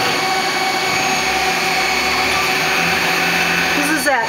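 A Citizen L32 CNC lathe runs a program with its main spindle at 2500 RPM, giving a loud, continuous machine hum and whine that holds steady throughout, with a brief rising whir right at the end.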